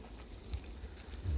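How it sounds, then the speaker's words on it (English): Sunny side up egg sizzling in a pan, a soft, steady crackle heard close and alone, with a faint low rumble near the end. "you're gonna hear it sizzle for a good little bit"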